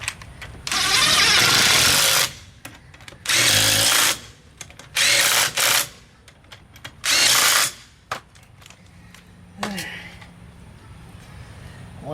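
An impact-style power tool runs in loud repeated bursts on the lug nuts of a VW Type-3 rear wheel, about four long whirring runs separated by pauses, close up, with a voice speaking between them.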